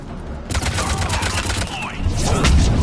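Chaotic Mass Effect 3 battle gunfire on Tuchanka, with overlapping bursts of shots and heavy low rumbling impacts, loud and continuous with voices mixed in.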